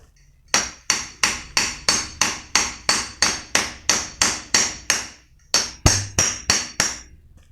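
Steady metallic hammer blows driving a bearing into a water pump motor, about twenty evenly spaced strikes with a short pause, each a sharp ringing clank close by.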